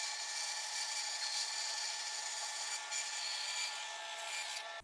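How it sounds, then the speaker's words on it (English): Wood blocks being resawn into thin veneers of 1/4 and 1/8 inch on a saw, a steady, continuous bright hissing cut held at even loudness for several seconds without talk. "For the seat, I resawed these blocks into 1/4 inch veneers"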